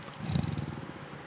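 A person does a vocal imitation of a cat purring: a low, rolling, rattly purr that swells briefly and then fades, close up, with no other talk.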